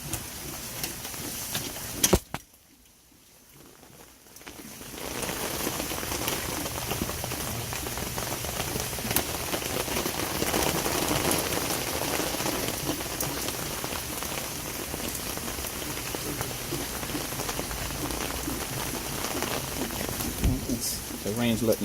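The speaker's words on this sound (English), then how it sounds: "just started pouring down rain" Heavy rain pours down steadily during an evening June storm at a home, a dense, continuous hiss of drops on surfaces that holds for about twenty seconds after a brief quiet gap near the start, with a voice speaking over it.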